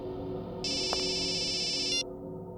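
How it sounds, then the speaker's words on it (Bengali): A phone ringtone sounds in a villain's hideout scene of a Bengali CID crime drama. A steady electronic ring plays for just over a second, fairly loud over a low background hum, with no talk. "বস, আপনার ফোন।"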